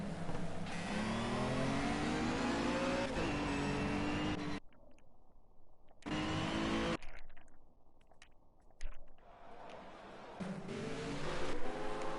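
GT3 race cars accelerate off the start at Zolder, a loud chorus of engines revving up and rising in pitch, cutting out briefly, then building again as the pack passes.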